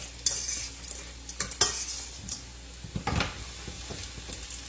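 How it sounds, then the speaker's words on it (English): A spoon stirs a creamy coconut shrimp pasta sauce seasoned with garlic powder and salt in a pan. Close, irregular scrapes and soft clinks come over a faint sizzle, with no talking. "Give them this a quick stir."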